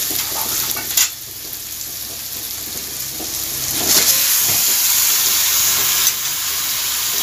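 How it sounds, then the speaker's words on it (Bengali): Marinated chicken pieces frying with browned onions in a pan for a Dak Bungalow chicken curry, a steady loud sizzle with bursts as the meat lands and is stirred, no talking. "এবার আমি এর মধ্যে ম্যারিনেট করা মাংসটা"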